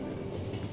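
Train rumble from The Final Station video game, a low, steady mechanical drone with faint rhythmic clatter, heard alone and fairly quiet.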